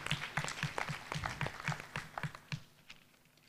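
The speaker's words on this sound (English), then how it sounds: "Please give him another round of applause for that partnership." Scattered applause at a public lecture, a modest round of separate hand claps with a quick uneven rhythm, fairly near and moderate in level, thinning out toward the end.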